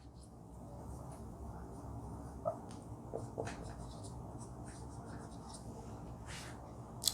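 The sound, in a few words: writing a chemical formula on a board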